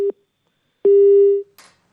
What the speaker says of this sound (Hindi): सुरेश जी, आपके पास सवाल का जवाब नहीं था जो आपने सवाल सुनने से पहले ही फोन काट दिया है।